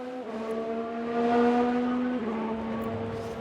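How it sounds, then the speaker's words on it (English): Formula One race car in the F1 Manager 22 racing game locking up under braking: a steady, loud engine whine that shifts pitch abruptly as the car brakes, heard alone without voices. "Sounds like someone's locked up."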